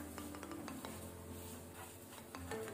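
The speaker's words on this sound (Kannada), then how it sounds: "ಇದನ್ನು ಸಹ ನಾವೀಗ ಲೋ ಫ್ಲೇಮ್ ಅಲ್ಲಿ ಫ್ರೈ ಮಾಡ್ಕೊಳ್ಬೇಕು" Coriander, cumin and fenugreek seeds dry-frying on a low flame for temple-style rasam powder, with steady close clinks and scrapes of a spatula against the pan and a faint sizzle throughout.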